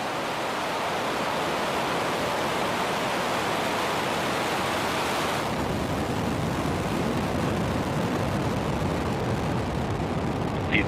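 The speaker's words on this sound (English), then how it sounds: "ignition. And liftoff of Falcon 9," A SpaceX Falcon 9 rocket lifting off produces a loud, broad, continuous roar that rumbles steadily for several seconds, deepening partway through as the noise settles into a lower crackling thunder.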